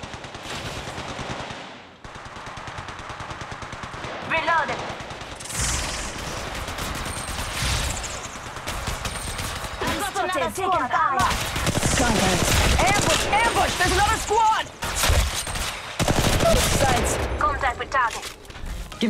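Gunfire in the mobile battle-royale game Apex Legends Mobile, bursts of rapid automatic shots and single cracks coming in waves, loud and close, with in-game voice lines spoken over them.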